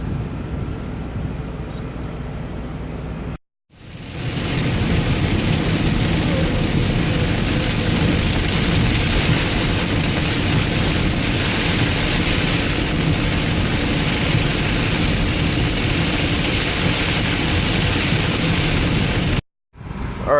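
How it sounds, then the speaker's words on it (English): Heavy rain pours by a river as a thunderstorm rolls in, a loud, continuous roaring wash with low rumbling underneath, broken by two brief silent cuts. "there's a thunderstorm rolling in"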